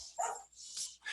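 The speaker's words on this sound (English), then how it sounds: "My dog's in the office." A dog barks indoors in an office, giving three short, fairly loud barks spaced evenly across about a second, with no talk over them.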